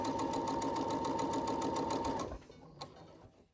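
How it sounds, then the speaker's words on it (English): A sewing machine stitching a fabric face mask, rapid steady needle clatter for about two seconds, then stopping, followed by a faint click and quiet handling. "Here, I'm going to sew these up really quick too."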